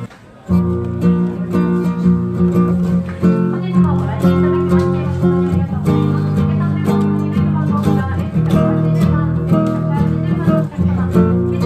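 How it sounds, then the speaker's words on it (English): A nylon-string guitar plays sustained chords and melody notes, warm and close, continuous throughout after a brief quiet start. "This is a nylon string, so this is the sound of the nylon."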